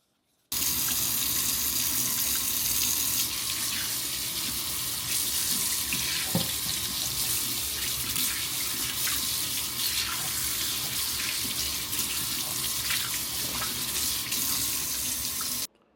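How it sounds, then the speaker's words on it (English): Water runs steadily from a tap into a garage sink as dirty hands are washed beneath it, a close, even splashing hiss that starts abruptly and stops at the end. "my hands are dirty. Time for me to go wash them up."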